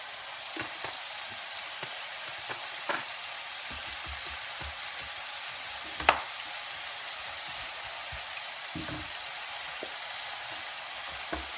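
Lardons and mushrooms fry in a pan with a soft, even crackling hiss, broken by occasional light clicks and taps of a utensil against the pan.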